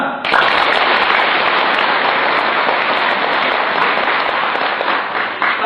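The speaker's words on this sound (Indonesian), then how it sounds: "Tepuk tangan." Applause at a religious gathering, a dense roar of many hands clapping that starts abruptly and holds steady and loud for several seconds before easing slightly.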